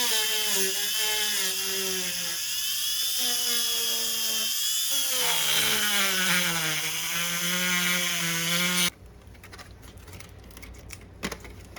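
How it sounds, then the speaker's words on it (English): A Dremel rotary tool whines loud and close as it cuts a plastic RC car body, its pitch sagging and recovering under load for about nine seconds before stopping abruptly, leaving faint handling noises. "Okay, so I'm gonna be using this on a Dremel. Do a practice cut first."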